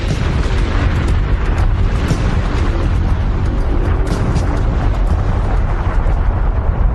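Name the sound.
volcanic eruption explosion of Mount Vesuvius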